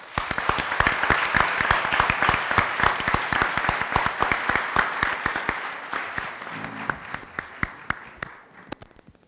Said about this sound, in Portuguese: é a ele que eu gostaria que fosse dada uma efusiva salva de palmas